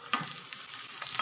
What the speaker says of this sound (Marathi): तेल आणि आता टाकला आपण कांदा आणि डबल थोडंसं तेल टाकायचे